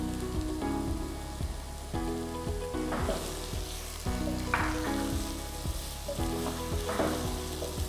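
Frying in ghee for a mulligatawny soup, a soft continuous sizzle with faint stirring, quiet and close, under a steady tonal background hum.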